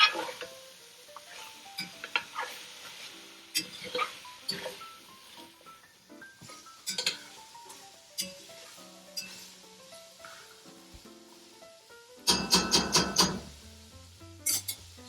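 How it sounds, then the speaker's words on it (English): Snap peas sauté in a pan with cumin and curry powder, a soft sizzle broken by scattered utensil clinks and stirring taps, with light music underneath and a louder burst of clattering near the end. "just go ahead and saute these snap peas"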